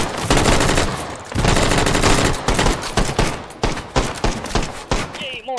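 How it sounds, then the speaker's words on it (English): Rapid automatic gunfire in the VR shooter game H3VR, loud and dense, with sustained bursts breaking into separate sharp shots toward the end. "Yay, more shooting."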